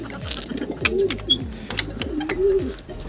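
Young racing pigeons cooing in a loft, several low, rolling coos repeating in a steady pattern with a few faint chirps and light background noise.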